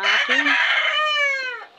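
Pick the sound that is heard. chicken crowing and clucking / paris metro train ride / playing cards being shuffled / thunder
chicken crowing and clucking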